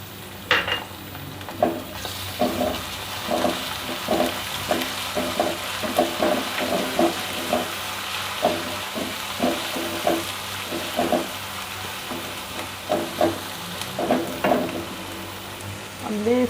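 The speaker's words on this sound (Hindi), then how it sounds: "तो अब हम इसमें लहसुन अदरक का पेस्ट डाल देते हैं।" Golden-brown onions sizzling in a pan for Sindhi chicken biryani as garlic-ginger paste goes in, with steady frying crackle and repeated stirring scrapes throughout, close and moderately loud, no talking.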